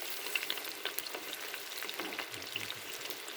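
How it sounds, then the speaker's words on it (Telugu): Chicken pakoda deep-frying in oil over a low flame, giving a steady crackling sizzle with scattered pops and bubbling, close and continuous with no talk. "వీటిని ఇప్పుడు లో ఫ్లేమ్లో పెట్టుకొని బాగా ఫ్రై చేసుకుందాం."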